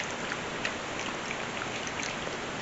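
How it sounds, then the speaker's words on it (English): Steady, fine scraping of a whisk working a clumpy peanut butter sauce, a continuous close wet rustle with small ticks running for a few seconds, no voices. "Now we whisk this."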